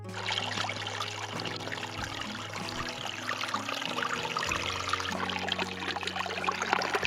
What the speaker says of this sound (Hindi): देखो कितना सारा पानी हुआ अभी जो बारिश हुई है, और पानी हल्का हल्का बहता हुआ।